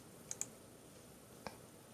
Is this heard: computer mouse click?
yes